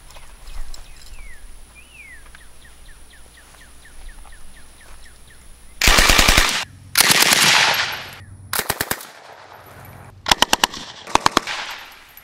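Japanese Type 96 light machine gun firing outdoors in several loud, close bursts of rapid shots, the later bursts short and broken, after a quiet stretch with faint birdsong.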